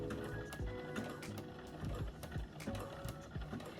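A sewing machine runs on its slow setting, stitching elastic onto swimwear, with a steady low mechanical whir and a fast rhythmic stitch pulse throughout. The sound is close but fairly quiet, with no talking.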